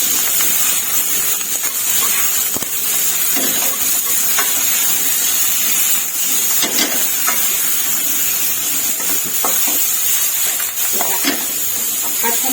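Blanched cauliflower stir-fried in a hot pan, a steady loud sizzle with spatula scrapes and stirring clatter running throughout, close and continuous with no one speaking.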